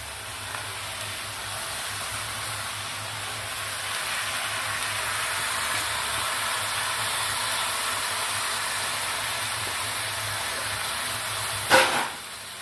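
Cabbage cooks in a pan as drained, soaked moong dal goes in, giving a steady, even sizzling hiss throughout, with a sharp clatter shortly before the end.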